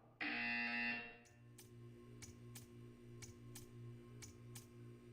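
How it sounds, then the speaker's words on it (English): A loud Portal 2 test-chamber buzzer sounds once for about a second, followed by a steady low hum with a series of sharp, evenly spaced ticking clicks. "You will hear a buzzer."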